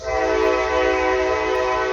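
A loud, sustained train horn blares on one steady chord for a couple of seconds, close and alone.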